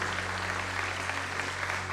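A church congregation claps together in a dense, steady burst of applause that fills the room at moderate volume, with no clear voices over it.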